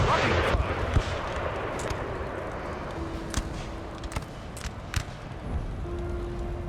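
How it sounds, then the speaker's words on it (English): Cannon fire blows holes in a building during a Napoleon Total War battle, a dense, fairly distant rumble of scattered booms and cracks running steadily under the battle din. "Holes being blown in the building."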